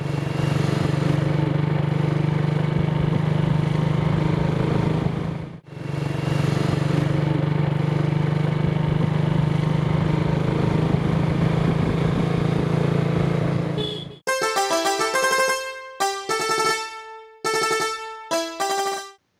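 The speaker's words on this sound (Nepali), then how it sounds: "ल म बाइक फर्काउँछु है त" Motorbike engine running steadily and loud up close for several seconds, with a brief dip, then cutting off as music takes over.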